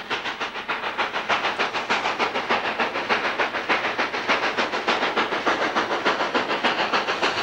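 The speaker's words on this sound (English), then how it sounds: "black clouds of smoke greet the photographer as the train pulls out of the yard." A narrow-gauge steam locomotive in Colorado chuffs steadily in rapid, rhythmic exhaust beats with hissing steam, loud and close throughout as the passenger train pulls out of the yard.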